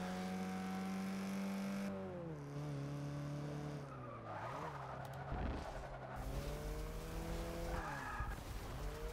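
A race car in Forza 6 skids off the track with a long tire squeal and roaring, shifting engine pitch, loud and continuous throughout.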